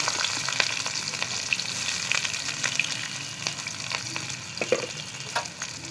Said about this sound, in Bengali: দিয়ে দেবো এবারে পেঁয়াজের কুচি।